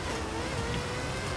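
A tuned Mazda Miata engine in Forza Horizon 5 holds a steady, buzzy drone during a race, sustained and even with no breaks or gear changes.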